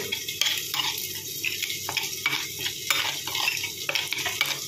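Potato pieces fry in a pan with a soft continuous sizzle, broken by repeated scraping stirs of a utensil against the pan, close and fairly quiet.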